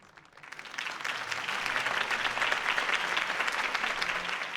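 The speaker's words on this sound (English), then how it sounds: "If only Mr. Wayne, my campaign's largest backer, could have heard that applause" Crowd applause rising from quiet into steady, sustained clapping from a large audience at a political campaign rally in the video game Batman: The Telltale Series, continuing evenly without voices.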